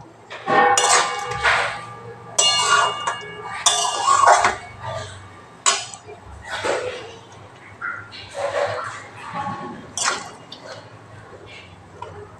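Cooked cauliflower, ridge gourd and small fish curry being served, with repeated clinks and scrapes of a utensil against a pot and plates in short bursts, fairly close and loud.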